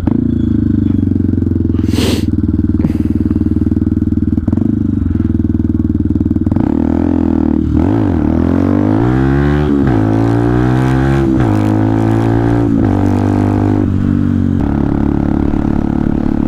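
A Benelli TNT 125 motorcycle engine revs hard and steady during wheelies, its pitch sweeping up and down through repeated throttle blips, loud and close with no talk.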